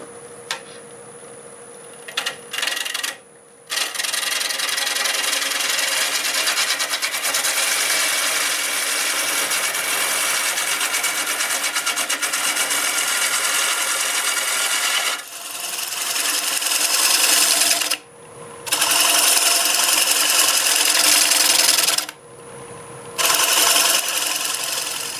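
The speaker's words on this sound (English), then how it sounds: "Start out with my 1/2 inch bowl gouge, and they're about 650 RPM." Half-inch bowl gouge cutting mesquite on a lathe spinning about 650 RPM, a steady close scraping, hissing rasp that runs almost continuously, with a few short pauses and brief quiet gaps between passes.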